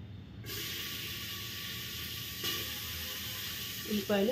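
Onions sizzle in hot oil with mustard seeds and cumin, a steady close hiss that holds throughout, with a voice briefly heard at the end.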